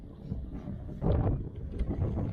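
Wind gusting over open water on a lake during winter bream fishing, a steady low rumbling buffet against the microphone that swells louder partway through and keeps roaring without voices.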